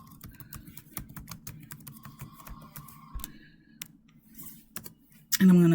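Typing on a computer keyboard, with quick close clicks of the keys in an irregular run that thins out toward the end, followed by a short louder burst of other sound.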